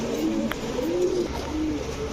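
Pigeons coo in a soft, rolling series at a pigeon sale of racer, giribaz and fancy birds, the low throaty calls repeating steadily and close over a busy background, with no speech.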